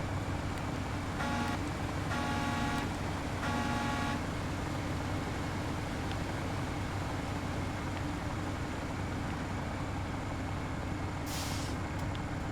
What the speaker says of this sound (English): Gotta honk at all of them, because I'm proud of all my babies.